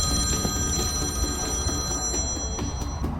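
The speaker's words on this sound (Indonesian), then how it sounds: "ponselnya berdering dari nomor tak dikenal" A mobile phone rings in a scene from an action film, sounding as a rapid, continuous, trilling electronic tone over a low rumble of background score.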